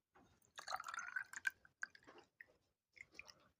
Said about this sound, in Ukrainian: льємо водичку